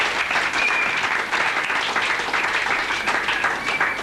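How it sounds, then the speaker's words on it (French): A church congregation at a prosperity seminar breaks into dense, sustained applause with cheering and whistles mixed in. The clapping holds steady and loud throughout. "Acclamez très fort le Seigneur."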